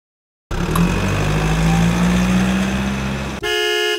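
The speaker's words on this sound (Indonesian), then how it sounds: "Motor scraper." Motor scraper heavy construction machine with its diesel engine running steadily, a loud rough drone with a rising whine, cut off near the end by a brief horn-like tone.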